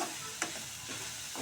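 Dill leaf curry (shepu bhaji) stirred in a pan, a soft steady hiss with a couple of brief scraping strokes of a spoon, close and quiet with no talking.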